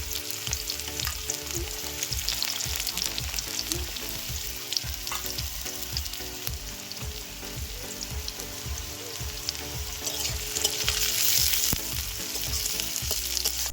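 Raw onion sizzles steadily in hot oil left from frying crisp onions for chicken rezala, with repeated scraping strokes of a spoon stirring the pan throughout, close and loud with no voices.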